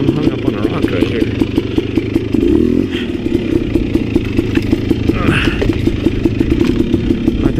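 A KTM 250XC dirt bike engine revs loudly and steadily up close while the bike sits hung up on a rock on a trail, with clattering and a brief burst of harder throttle midway.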